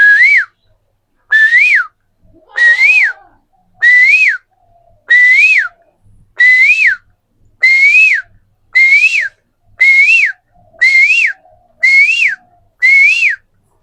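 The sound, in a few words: whistled imitation of a cuckoo's call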